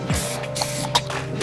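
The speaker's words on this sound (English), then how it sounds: "Just spray it a little more." Hairspray sprayed onto a styled hairdo, several short hissing bursts from an aerosol can, close and fairly loud, with no talking.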